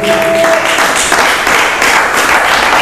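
A church congregation applauds in sustained, dense clapping for the full stretch, loud and steady, with a brief sung or held tone near the start.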